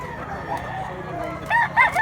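A young stag rooster being sold at a Mantalungon, Cebu market gives a loud, close cock-a-doodle-doo in two bursts near the end, after a stretch of murmuring market noise.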